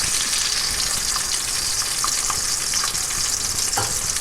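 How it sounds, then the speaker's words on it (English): Bacon frying in a pan, a loud dense crackling sizzle that stays steady throughout, with scattered sharper pops and spatters close by and no voices. "Now see, these are cooking. Look at this. Look at that piece of bacon."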